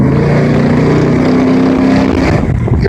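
A 2004 Dodge Ram 1500 Rumble Bee with a bored-out Hemi and 392 stroker kit, Edelbrock headers and Flowmaster true dual exhaust, rumbles loudly up close, a steady deep idle with a slight swell near the end.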